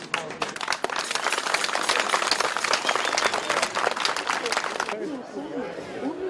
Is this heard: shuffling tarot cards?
no